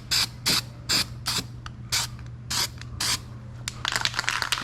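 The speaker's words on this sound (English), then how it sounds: "time to spray some weld through primer on this stuff" An aerosol can of weld-through primer hisses in six or seven short, evenly spaced bursts onto the metal of an E46 M3 rear section, followed by a rattling, uneven spurt near the end.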